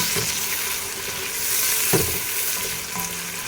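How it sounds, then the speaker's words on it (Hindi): Three medium onions sauté in a bowlful of oil in a pot, giving a steady close sizzle with occasional stirring scrapes and clinks, for a degi-style chicken palak. "प्याज को हम थोड़ा सा सौते कर लेंगे।"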